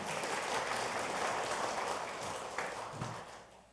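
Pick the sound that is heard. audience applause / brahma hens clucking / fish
audience applause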